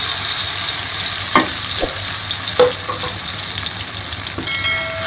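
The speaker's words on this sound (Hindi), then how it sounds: "और ये इसके अंदर हम सारे मसाले थे वो भी डाल देंगे और इसको भून लेंगे अच्छी तरह" A paste of onion, tomato, green chili, garlic and ginger fries in a pan with a steady loud sizzle, broken by a few scraping stirs of a spoon. No voices are heard.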